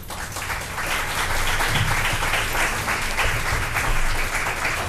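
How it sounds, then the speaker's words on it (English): Audience applause for town councilors at a 2015 municipal debate in Biddeford, a steady wash of clapping filling the hall at even loudness throughout. "Round of applause for our councilors."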